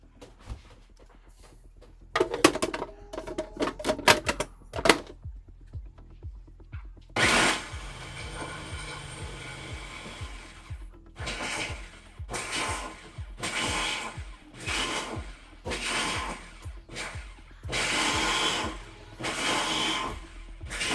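Electric chopper finely dicing ham, giving short whirring bursts at first, then a long run and a series of regular pulsed grinding blasts with brief pauses between them, close and fairly loud.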